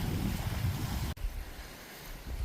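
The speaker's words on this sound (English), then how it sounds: "It's a little windy, so I'm not sure if you're even going to be able to hear my voice because it's so windy." Wind gusting across a coastal marsh with tall grass, roaring into the microphone in rough buffeting bursts, then easing after a brief drop midway.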